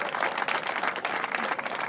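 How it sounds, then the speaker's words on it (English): Children being applauded after a school performance, a dense, steady burst of clapping from an audience filling the room, loud and continuous with no speech over it. "A big round of applause for the kids."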